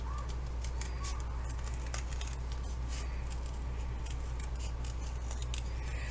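Scissors snipping around a paper pattern piece for a hatpin and stickpin holder craft, giving a steady run of small crisp cuts and rustles, close and fairly quiet over a constant low hum.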